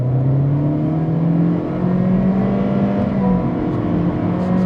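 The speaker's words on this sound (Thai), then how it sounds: "ขอสัก 200 เมตรดูจังหวะการเปลี่ยนเกียร์ครับนี่กดจงคันเร่งเลย" A 2022 Honda Civic 1.5 Turbo EL accelerates hard from inside the cabin, its engine note climbing in pitch, then dropping briefly at a smooth gear change before rising again, steady and loud.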